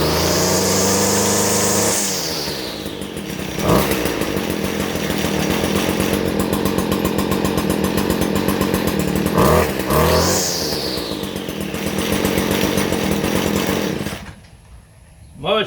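Stihl FS 56 RC weed trimmer two-stroke engine starting up and then running, a loud, raspy, close buzz that revs up and down several times before cutting out near the end.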